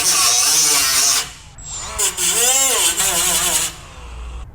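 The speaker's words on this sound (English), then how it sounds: "All right, lots of grinding." Small angle grinder fitted with a three-inch disc on a two-inch backing pad, grinding rusty sheet metal on a C10 pickup truck door jamb; loud, steady whining bursts that pause briefly and shift pitch as the disc bites.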